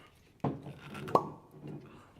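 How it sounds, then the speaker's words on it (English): A cork pops out of a bourbon bottle, a sharp hollow pop followed by a second louder pop, close and clear, with faint background murmur around it. "Ooh, nice cork pop."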